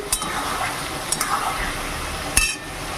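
Mutton curry with spices frying in a pan under a steady low sizzle, with a few sharp scrapes and clinks of a utensil stirring against the metal, close by.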